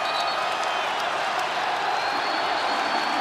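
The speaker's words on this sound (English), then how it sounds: "this crowd is alive." A basketball arena crowd at a Kentucky versus Notre Dame college game roars and applauds in a dense, steady wash of cheering and clapping that holds without pause.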